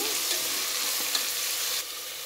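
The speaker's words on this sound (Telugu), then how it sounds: "నూనెలో మనము పితిక్ బేలు అయితే ఒక 2 మినిట్స్ వేయించుకోండి చాలు" Field beans (pitiki bele) frying in hot oil give a steady, close sizzle, with a faint stir or scrape partway through and the hiss dropping slightly toward the end.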